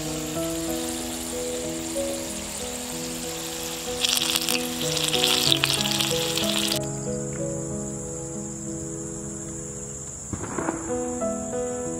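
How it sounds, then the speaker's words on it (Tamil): Curry leaves and dried chillies fry in hot oil for paneer 65. A constant bright sizzle runs over soft tonal music, swelling into a crackling burst partway through and ending with a brief clatter. "கருவேப்பிலையும் மிளகாயும் வறுத்து போட்டுக்கலாம்."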